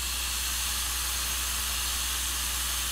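Steady, even hiss of steam heat on a Southern Ps-4 steam locomotive in the Trainz Railroad Simulator 2019 game, a continuous broadband rush that holds at a constant level throughout with no voices.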